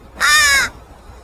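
A single drawn-out crow caw rings out in the video game Skyrim, clear and fairly close, alone against a quiet background with no talk.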